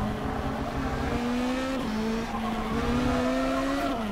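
Formula 3 race car in the Stock Car Extreme video game at Interlagos, its engine droning steadily with a shifting pitch as the tires rumble over a curb, loud and continuous throughout.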